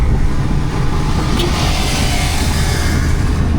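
A Suzuki DA64V minivan overtakes on a road, its engine drone and road rumble steady and continuous, close and fairly loud, with no voices.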